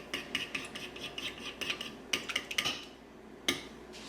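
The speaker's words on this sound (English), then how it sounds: "I am just going to stir this up and taste it." Spoon stirring a honey mixture in a bowl, a series of quick clinking taps and scrapes in uneven bursts, fairly quiet and close, with pauses between strokes.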